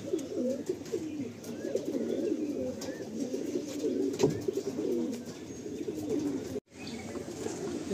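Pigeons at a pigeon-keeper's loft near New Garia, Kolkata, coo continuously in a dense overlapping chorus, with warbling low calls close by and a brief gap near the end before the cooing resumes.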